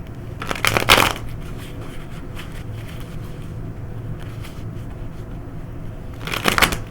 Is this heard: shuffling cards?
yes